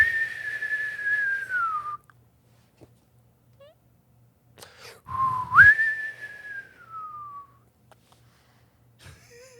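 During a tabletop role-playing game, a person whistles two long sliding notes that fall in pitch, separated by a few seconds of near silence, to mimic a whistle heard in the distance.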